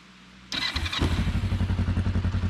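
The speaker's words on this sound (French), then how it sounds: "Bon là je vais vous faire écouter le bruit de la moto" A Kawasaki KLE 500 motorcycle engine with stock exhaust starts up after a quiet moment and settles into a steady, throbbing idle close by.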